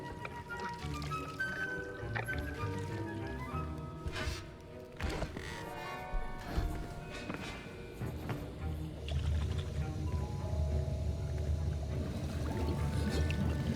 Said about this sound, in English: Now let's stir it up.